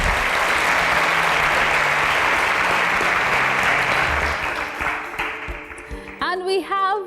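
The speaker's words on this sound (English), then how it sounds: "A round of applause for Mesoma, please." A studio audience on a talent competition show breaks into sustained, dense applause that fills most of the stretch, then fades as a voice with music-like tones enters near the end.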